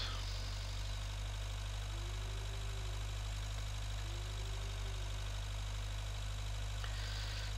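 A tractor engine in Agricultural Simulator 2013 runs at a steady, low, constant drone, faint and unchanging throughout, with a couple of brief tonal rises in the background.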